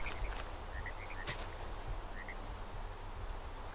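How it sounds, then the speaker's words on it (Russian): A frog croaks in the video game Westerlands, a few short, soft calls repeating over a steady low ambient background with no talking. "Так, что тут за лягушка прыгает?"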